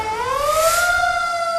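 A fire engine siren wails loudly and steadily, a single rising tone sweeping upward and holding near, with no talk over it.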